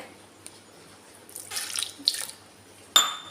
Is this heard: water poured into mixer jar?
yes